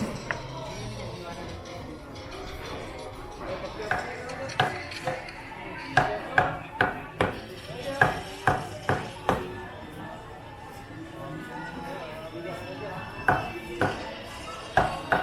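Repeated sharp chops of a butcher's cleaver through meat on a block, irregular then rapid bursts, with market chatter and bustle of a Philippine public market in the background.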